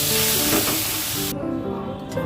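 Spices and whole green chillies are stirred in a hot pan of oil, giving a loud, steady close sizzle that cuts off abruptly partway through.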